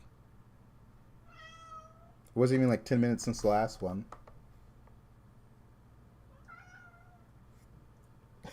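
A pet cat meows faintly in the background during a Hearthstone Battlegrounds livestream, two short tonal meows a few seconds apart, with a burst of close speech between them.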